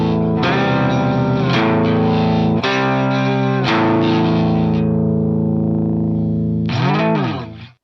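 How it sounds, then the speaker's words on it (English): Digitech Whammy DT pitch shifter set to harmony, a fourth up and a fifth down, stacks shifted voices over sustained electric guitar chords. Several loud, ringing strums are followed by a quick pitch-bending swoop at the end. "you could say have a 4th when it's shifting up and a 5th when it's shifting down"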